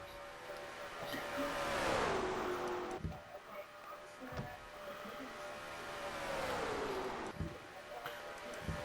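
Race cars in a Mello Yello series race sweep past on the track in two waves of engine roar. Each wave swells and then falls in pitch as the cars go by, with a faint voice over the top.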